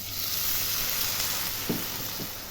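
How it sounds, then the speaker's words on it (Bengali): Fried potatoes sizzling in a pan after a little water is added; a steady, close hiss and crackle of frying with a few soft stirring clicks and no talking. "আলুগুলো সুন্দর ভাজা ভাজা হয়ে গেছে। এবার আমি এর মধ্যে সামান্য একটু জল দেব।"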